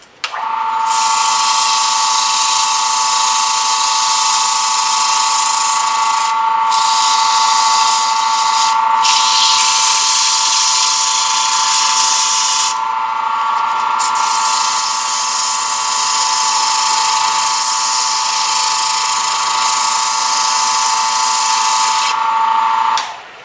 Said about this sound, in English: this soft maple doesn't take too much to get that sanded up